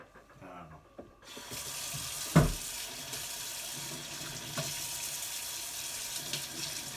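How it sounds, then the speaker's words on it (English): Water from a kitchen tap runs steadily and fairly loud while lunch is being made, a continuous close rush with a brief clatter near the middle and no speech over it. "Sorry about the water noise."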